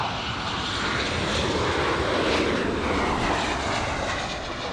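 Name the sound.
American Airlines jet aircraft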